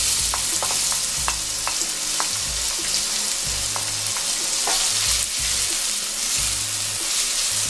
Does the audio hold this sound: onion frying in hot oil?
yes